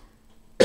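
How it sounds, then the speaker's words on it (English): A single sharp cough from a person bursts out abruptly after near silence, loud and close. "And here I go with the coughing again."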